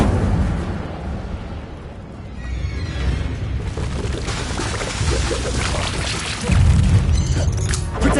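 An Incendio fire spell from Hogwarts Legacy erupts in a loud, rushing whoosh-and-roar blast that swells and holds, with a heavier boom surging near the end over game ambience.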